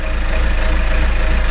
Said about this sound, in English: The engine now starts like that.